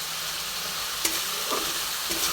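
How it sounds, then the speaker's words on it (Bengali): Spice paste (masala) for an eggplant chicken curry fries in hot oil with a steady close sizzle, broken by three short scraping stirs of the spatula. "খুব সুন্দর করে মশলাটা কষা হচ্ছে, তেল প্রায় ছেড়ে এসেছে।"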